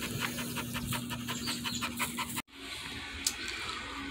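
An American Bully dog pants rapidly in quick, even breaths up close, then a sudden break leads into quieter ambient noise with one brief sharp click.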